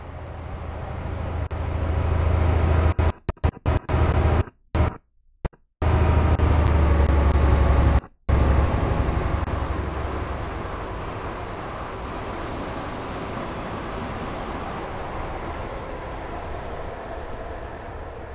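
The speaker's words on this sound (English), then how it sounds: "here comes the train now" Train approaching in Train Simulator 2017 on the London to Peterborough line: a loud rushing roar with a low rumble that cuts out abruptly several times, then a steadier, quieter rolling hum of wagons passing.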